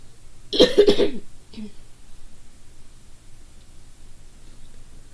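A single close, breathy cough breaks the quiet, followed by a faint rustle and then near silence.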